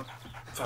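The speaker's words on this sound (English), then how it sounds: "That's a dog." A dog in the survival video game 7 Days to Die pants briefly and faintly in a short, quiet burst.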